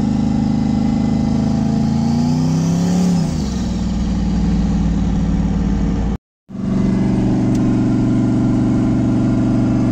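Turbocharged Chevrolet Monte Carlo engine running loud and steady close by, with a brief rev shift near the start and a momentary dropout before the same droning idle resumes.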